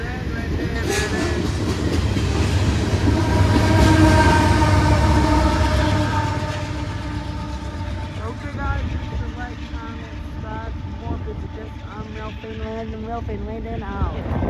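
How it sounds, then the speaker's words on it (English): An Amtrak P371 passenger train pulls into a station in the rain, its loud rumbling and wheel clatter filling the scene alongside steady rain noise, with a person talking nearby. "Here's Amtrak P371 arriving on station in the rain, of course."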